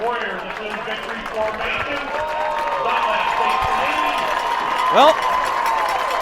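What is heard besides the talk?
high school football crowd making noise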